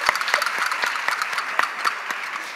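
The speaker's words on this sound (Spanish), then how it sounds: "Venga, otro aplauso también" A burst of applause at a folk-music school's end-of-year festival in Cieza, Spain: many hands clapping briskly and steadily, fairly loud and close, with no voices over it.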